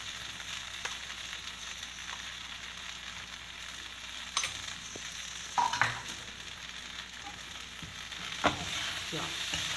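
Coconut, dry coconut and chili fry in a pan with a soft, steady sizzle, broken by occasional scraping stir strokes and small pops.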